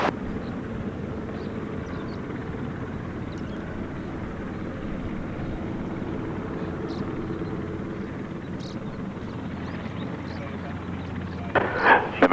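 A plane at Gold Coast Airport gives off a steady, loud engine roar and rumble for the whole stretch, holding even throughout, while radio chatter plays near the end.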